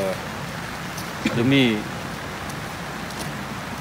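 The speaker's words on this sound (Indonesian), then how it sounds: "pada malam ini memang betul-betul hujan" Steady night rain hisses loudly and continuously on a road in Sabah, with a brief murmur of speech over the wash of falling water.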